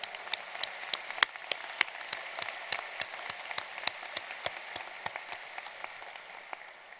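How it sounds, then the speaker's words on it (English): Audience applause at a commencement ceremony, a steady patter of many hands clapping at moderate volume, continuous for several seconds with no one speaking. "Please join me once again in a round of applause for our supporters."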